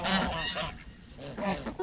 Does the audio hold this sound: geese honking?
yes